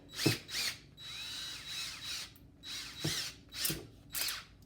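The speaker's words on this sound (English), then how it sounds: "I'm just going to pop my drill bit in to my drill" Several short bursts of a power drill whirring, separated by brief pauses, fairly close and loud, with a clicking mechanical edge.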